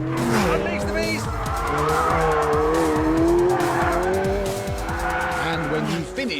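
A McLaren 720S drifts with its variable drift control engaged, engine revving and tires squealing in long continuous screeches, loud and close, with someone talking over it.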